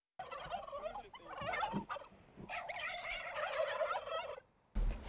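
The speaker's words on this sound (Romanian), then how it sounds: "La un an distanță, curcanii au mai crescut și bucură ochii vizitatorilor de la grădina zoologică." Turkeys at a zoo gobbling in several rapid, warbling bursts close by, with people speaking Romanian between and over the calls.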